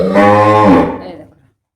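A cow in a cowshed, recently calved, gives one long, loud, close moo that holds steady before trailing off into quiet.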